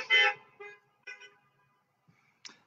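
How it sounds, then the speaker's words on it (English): Car horns honk at a drive-in worship service, a loud first toot followed by several shorter, fainter honks scattered across the moment, each separated by silence. "You can honk your horns if you're in the cars so people online can hear you."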